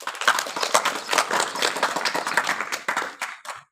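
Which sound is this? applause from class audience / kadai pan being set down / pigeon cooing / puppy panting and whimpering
applause from class audience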